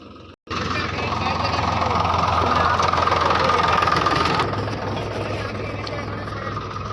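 A tractor engine runs steadily, a continuous mid-low mechanical drone that kicks in abruptly after a brief pause and holds fairly close for several seconds.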